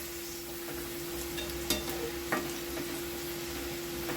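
Okra (bhindi) fries in a pan with a steady, close sizzle and two sharp clinks of stirring partway through.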